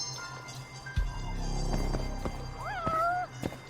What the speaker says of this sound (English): Oh, the cat is very close.